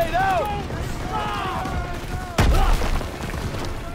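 A grenade explodes on a World War II battlefield in Call of Duty: WWII, one sharp loud blast cutting through shouted voices and ongoing combat noise, with gunfire and rumble around it.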